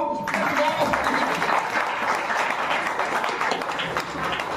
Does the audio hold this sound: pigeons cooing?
no